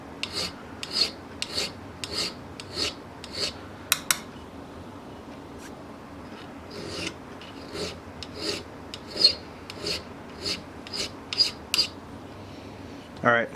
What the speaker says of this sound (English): I'm going to file on a surface plate with some probably 320, 400 sandpaper